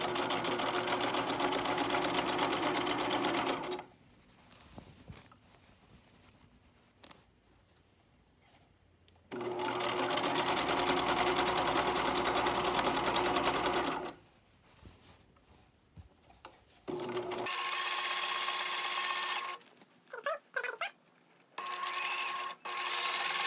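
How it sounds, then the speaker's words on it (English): A sewing machine stitches along the edge of underwear fabric at the presser foot, running steadily in long loud bursts broken by brief pauses, and ending with shorter stop-start runs. "I'm on this machine, I'm running that edge of the fabric along this edge of my presser foot"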